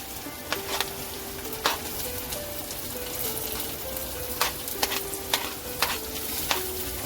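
Onion frying in a pan on a home stove, a continuous soft sizzle with repeated spatula clicks and scrapes against the pan at an uneven rhythm, close and quiet, with no voices.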